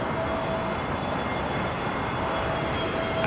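A British Airways Airbus A320neo jet arriving at London Heathrow on a blustery evening, heard as a steady, loud, broadband engine roar with a faint tonal whine, continuous throughout with no talking.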